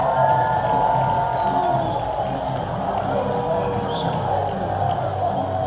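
A minor-league baseball crowd roars and cheers after a base hit breaks up a no-hitter in the eighth inning, a steady, loud wash of voices that holds for several seconds.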